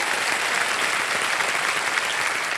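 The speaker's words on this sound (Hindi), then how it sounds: "इनके लिए भी एक बार जोरदार तालियां बज जाए" A studio audience on the quiz show Kaun Banega Crorepati bursts into loud, sustained applause, dense even clapping from a full crowd filling the whole stretch without any talking over it.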